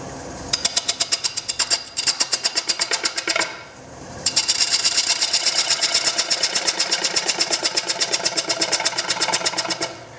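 A wood lathe starts up and spins a wooden tray being turned, giving a loud, steady rapid mechanical pulsing that drops out briefly before resuming strong and continuous.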